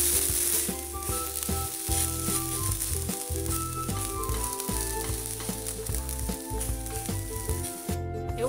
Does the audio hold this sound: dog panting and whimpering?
no